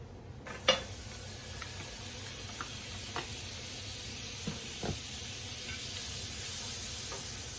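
Butter sizzles in a hot pan with a soft continuous hiss, broken by a few light clicks and taps of a utensil, fairly quiet and close, with no voices.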